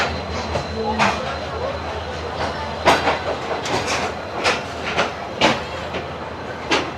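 An express train hauled by a HEMU 30R locomotive pulls away, its wagons giving rhythmic clickety-clack knocks that repeat over a low rumble, heard close with someone talking over it.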